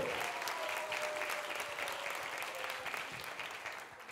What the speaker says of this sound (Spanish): aplausos para ustedes, muchachos